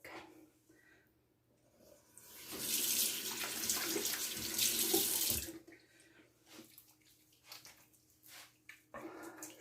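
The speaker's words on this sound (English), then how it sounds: "I am going to get my hands wet and emulsify so you can see what that looks like" Tap water runs into a sink to wet hands, a loud splashing stream for a few seconds between quieter moments of hand movement and faint drips nearby.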